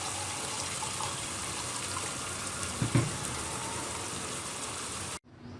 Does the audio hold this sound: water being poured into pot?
yes